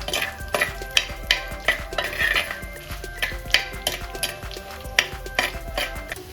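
Dried red chillies frying over medium flame in a pan for a Tamil chicken fry, with soft sizzling under repeated clinks and scrapes of a stirring spoon against the pan.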